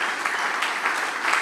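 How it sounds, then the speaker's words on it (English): Applause from the audience at a startup expo summit in Germany, a steady dense clapping that fills the whole stretch, loud and continuous with no talk over it. "Please give her a big applause"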